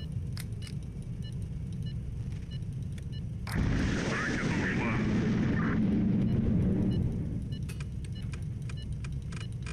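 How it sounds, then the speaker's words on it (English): A heat-seeking missile strikes in the video game Highfleet, a sudden loud burst of rushing, roaring noise that swells for a few seconds and then fades back into a low game hum. "And it's now on a heat-seeking mission to take out these guys."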